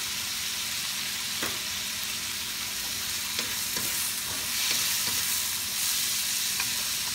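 Carrot pieces frying in a pan with garlic while making sweet and sour red snapper: a continuous loud sizzle with occasional scraping stirs, and no talking.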